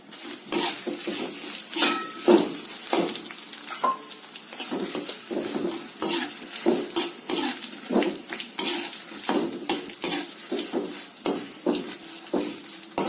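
Mustard seeds, fenugreek and dry red chillies crackle in hot oil for a tempering, a busy close sizzle with frequent popping seeds and metal pan clinks from stirring, no speech.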